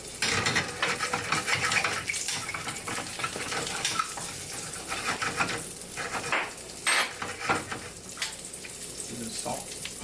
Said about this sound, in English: we're gonna go ahead and saute our asparagus first